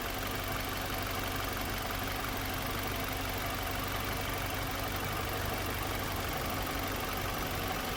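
A car engine runs steadily after a transmission flush, a continuous broadband rumble and hum with no distinct changes, heard close during a test drive.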